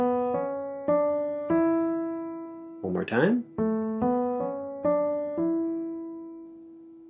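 Single piano notes climb a major pentascale starting on do, each struck once in a slow steady rhythm with ringing sustain, interrupted midway by a brief spoken voice before the notes resume.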